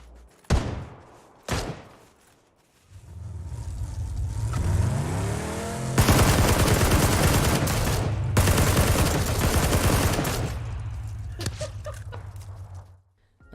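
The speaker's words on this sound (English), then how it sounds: "The shots came from the hill towards the graveyard / the industrial area" Gunfire crackles during a battle royale video game match, with a few sharp early shots, then sustained rapid bursts over a running vehicle engine that revs and fades, loud and close.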